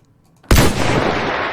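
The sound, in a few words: arm cannon firing a shot in Roblox video game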